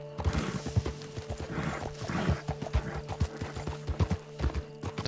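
Horse hooves clip-clopping in the video game Red Dead Redemption II, a steady rhythmic trot of clear, fairly close hoofbeats over a low hum, with a brief snort and no speech.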